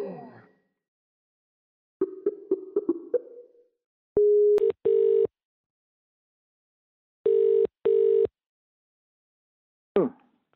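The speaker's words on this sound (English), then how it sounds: "call the phone again." A telephone being called back after a dropped interview connection plays a few short tones and then two pairs of steady ringback buzzes, loud and alone on a silent line, with brief noise at the start and end.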